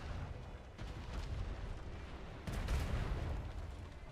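Ship cannons firing in a roleplay video game battle, a continuous rumbling barrage of heavy booms that swells louder midway, dense and steady with no talking.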